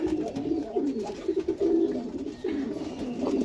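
Pigeons coo steadily in low, throaty rolling phrases, several overlapping calls close by as the birds come in through an opened door, with no voices.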